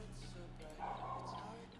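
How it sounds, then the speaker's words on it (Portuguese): A dog barks and yips somewhere in the room, a short muffled burst partly under a person talking. "Desculpa pelo latido do cachorro, pessoal, se estiver escutando aí"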